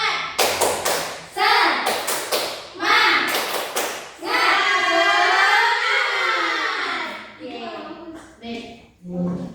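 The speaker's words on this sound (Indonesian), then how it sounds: "Tepuk semangat." Children doing a rhythmic spirit clap in a classroom, a run of loud, evenly spaced claps given in short bursts, followed by a long sustained group chant, with voices mixed throughout.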